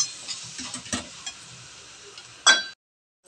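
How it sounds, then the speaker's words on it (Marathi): Spices sautéing in oil for pav bhaji, a faint steady sizzle with a few spoon scrapes and one louder stir before a sudden silence. "मसाले चांगले तेल सुटपर्यंत परतून घेऊया"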